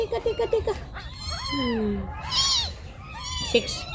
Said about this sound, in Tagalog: Six days pa nga itong pusa na to.